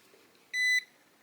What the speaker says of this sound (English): the machine kind of beeps at you, and that basically is saying it's ready